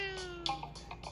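A person imitates a young cat's high-pitched meow, several short squeaky cries in quick succession, close and fairly faint.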